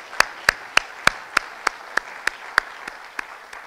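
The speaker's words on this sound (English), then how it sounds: "I would like to give them a rousing hand of applause" Applause from an awards-ceremony audience for a musical group: a sparse run of about a dozen crisp, evenly spaced claps at moderate volume, fading slightly toward the end, with no talking.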